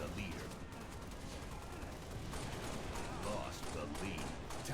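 Dense, continuous gunfire from the video game Halo rattles on throughout, mixed with game noise and partly under voices talking.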